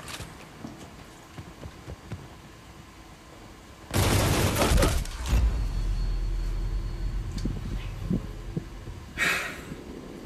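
Gunfire in the shooter Medal of Honor, a loud close burst of shots erupting partway through and trailing into rumbling echoes, with a later sharp crack over a quieter background.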